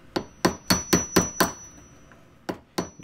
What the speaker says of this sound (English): I'm using it with the hammer to turn the locking ring.